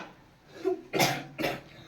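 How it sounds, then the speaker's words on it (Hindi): A person coughs three times in quick succession. Each cough is a sharp, fairly loud burst, and a softer throat sound comes before them. "हर कोई खांसता है"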